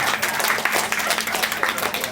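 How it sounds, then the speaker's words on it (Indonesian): A crowd claps together at an Indonesian business event, a thick continuous wash of hands filling the short moment while a voice carries faintly beneath it. "Tepuk tangan untuk kita semua"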